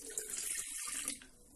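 Warm water runs from a tap into a mixing bowl holding yeast, a steady close splashing stream for a short moment.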